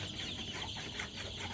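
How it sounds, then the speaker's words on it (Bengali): Golden chicken chicks on a two-storey poultry farm clucking and peeping softly in a steady, muffled mass of chatter over a constant background hum. "এই যে বন্ধুরা দেখুন, সোনালী মুরগির বাচ্চা কত সুন্দর"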